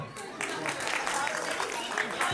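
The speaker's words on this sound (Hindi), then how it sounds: "ताली तो बजाओ" Audience clapping in a hall at a school annual function, steady broadband applause lasting a couple of seconds, fairly close and continuous, with a voice over a microphone running over it.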